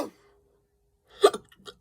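A single sharp hiccup from a person, loud and close, followed by a couple of smaller catches of breath, after a near-silent pause.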